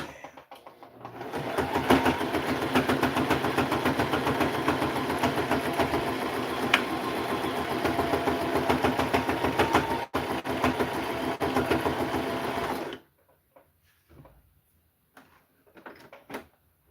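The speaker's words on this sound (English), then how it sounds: "Now we're going to sew." A sewing machine stitches two fabric pieces together in a steady, fast mechanical whir for about twelve seconds, close and loud, then stops abruptly, leaving near silence with faint handling sounds.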